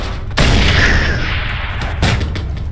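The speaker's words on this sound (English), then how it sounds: "Today we're making a chain reaction" Fireworks set off in a chain reaction burst with loud, close booms: one big explosion crackles and rumbles for over a second, then a second blast follows.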